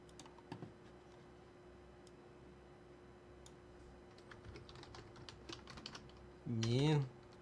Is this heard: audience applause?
no